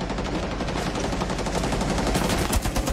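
Rapid automatic gunfire in Rainbow Six Siege, dense bursts of loud close shots firing continuously for a few seconds with sharper cracks near the end.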